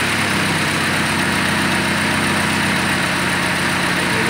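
Car engine running steadily during a cylinder head gasket leak test, a loud continuous close-up drone held at elevated revs throughout with no voices over it.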